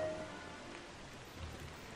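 Soft, steady rain patters continuously in the video game Don't Starve, conjured by Dripple Pipes, a faint even hiss of drops with no voices.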